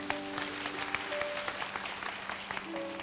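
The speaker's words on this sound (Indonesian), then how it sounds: "Beri tepuk tangan untuk Tuhan Yesus." A church congregation claps together in a steady, full round of applause, the dense patter of many hands filling the hall, with faint tonal background sound running underneath.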